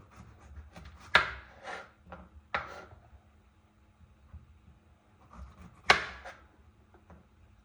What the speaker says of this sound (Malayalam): അപ്പോൾ ഞാൻ ആദ്യം അരിയട്ടെ